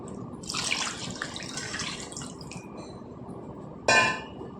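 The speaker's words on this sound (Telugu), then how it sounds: "ఉప్పు వేసుకొని మనకి పులుసుకి సరిపడినన్ని నీళ్ళు వేసుకుందాం." Water poured from a glass into a pot of okra and tomato stew, a steady trickling splash for several seconds that thins out, then a brief louder gush near the end.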